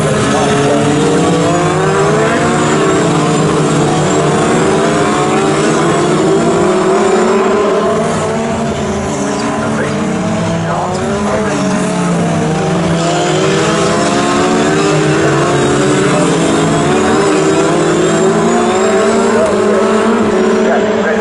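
British F3 race cars at Snetterton circuit roar past under a commentator's voice, engines loud and sustained with rising and falling pitch as they accelerate along the straight.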